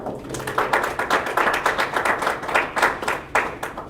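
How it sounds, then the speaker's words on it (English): Teens in a financial literacy class clap for themselves, a small group's uneven, rhythmic handclaps close by, with no talking over them. "Give yourself a round of applause for that."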